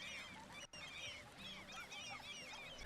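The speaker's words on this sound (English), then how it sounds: "when I zoom in here, all I can hear is seagulls." Seagull-like calls ring out in the Cities: Skylines city-building game, many overlapping squawks and cries forming a steady, fairly loud bird chorus with one brief dropout, and no talking.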